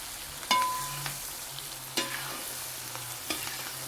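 Indian gooseberries stirred in hot oil, a faint background sizzle broken by a few sharp spoon scrapes and knocks against the pan.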